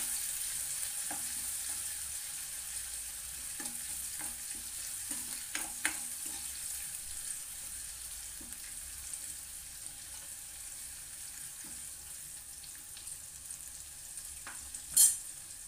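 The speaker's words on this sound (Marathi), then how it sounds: "फोडणी आपली चांगली तेलामध्ये परतून घ्यायची." Onion tempering with curry leaves, ginger and garlic being stir-fried in oil: a low steady sizzle broken by scattered scraping stir strokes and a sharp clatter near the end, with no voices.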